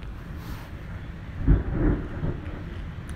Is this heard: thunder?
yes